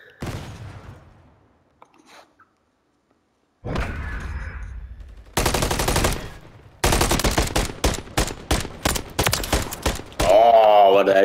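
Rapid rifle bursts in a Call of Duty MW3 ranked Search and Destroy match, starting after a quiet stretch, with sharp, closely spaced shots that are loud and dominant.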